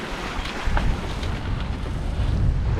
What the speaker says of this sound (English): We're actually sailing.